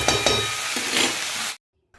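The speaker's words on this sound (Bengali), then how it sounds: "ওদিকে মাছটা ভাজা হচ্ছে" Fish sizzling steadily in hot oil in a pan, a dense, loud crackle with a few light clinks, cutting off abruptly into near silence.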